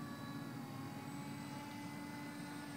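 A Parkzone Icon A5 RC model plane flies a low pass, its electric motor giving a faint, steady whine with a constant tone throughout.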